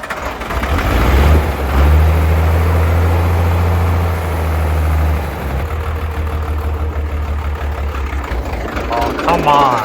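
A 12-valve Cummins diesel with a failed head gasket idles roughly close by, its low rumble surging and sagging as it threatens to stall, while someone talks over it.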